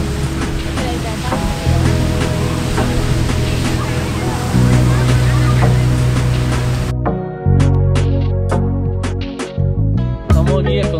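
Ocean surf breaking on a beach under a yellow-flag warning with rain and an approaching storm, a steady roaring wash that swells and drops, with people talking close by over it.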